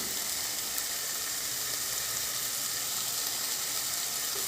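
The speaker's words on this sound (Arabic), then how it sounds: "انا راح نقلي هنا كلش كذا مع بعضه" Chicken frying in a pan with ras el hanout, turmeric and parsley for a potato and chicken gratin, a steady, even sizzle that holds throughout with no pauses and no talking over it.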